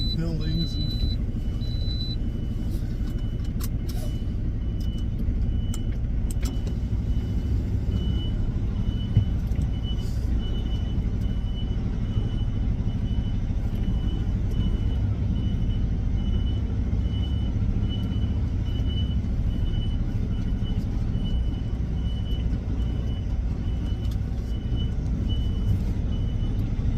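Truck backing down an alleyway between parked cars and buildings, a deep steady engine rumble throughout with a faint repeating reversing beep, plus occasional clicks and knocks.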